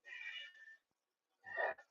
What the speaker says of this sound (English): my cat is using the litter box.